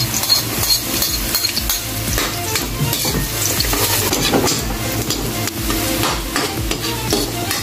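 Onion and garlic frying in a pan for lomi, a loud close sizzle with busy stirring and scraping of a utensil against the pan throughout, no voices.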